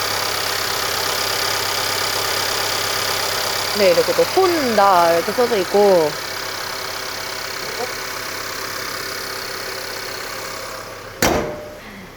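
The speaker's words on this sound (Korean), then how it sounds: "엔진 소리 들려드릴게요." A 2017 Honda Accord's 2.4-litre petrol engine idles steadily with the hood open, a constant low hum, while someone speaks briefly over it and a short clunk sounds near the end.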